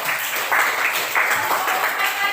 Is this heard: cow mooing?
no